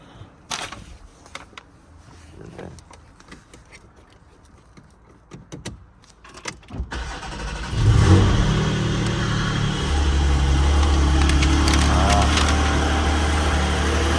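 A Porsche GT4 with a naturally aspirated engine: faint handling and door-like clicks come first, then the engine fires up about halfway through and runs loud and steady close by.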